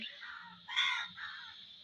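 A crow caws outdoors under cloudy skies: a single faint, harsh call with a louder rasping peak in the middle, heard alone.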